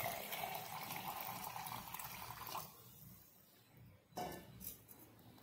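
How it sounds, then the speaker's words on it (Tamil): Water pours into ginger amla juice in a container with a steady splashing rush. It stops partway through, and then come a few faint clinks and shuffles. "இப்போ இதுக்கு தகுந்த அளவு நம்ம வந்து வாட்டர் ஆட் பண்ணிக்கலாம்"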